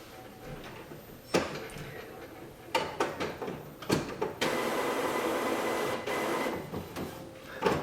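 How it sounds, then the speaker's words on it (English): An Epson printer runs its print head cleaning cycle, whirring and clunking with repeated mechanical knocks, a sustained motor drone in the middle and sharp clicks throughout, close and fairly loud. "the printer head cleaning will clean up the regular dye ink from the printer head"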